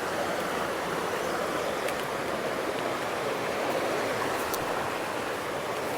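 A high-running mountain creek rushes in a steady, broad hiss of flowing water, constant and fairly close, with no voices over it.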